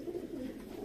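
Pigeons coo softly on a rooftop, a faint, continuous low murmur with no other sounds.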